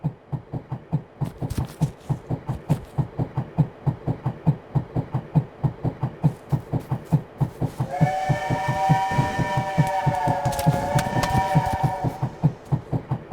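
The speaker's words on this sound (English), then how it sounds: "Especially since the train's coming now." In the video game Amazing Frog, a train rolls past with a loud, steady rhythmic clatter of wheels on rail joints, then a sustained steam-style whistle sounds midway for several seconds, with no talk over it.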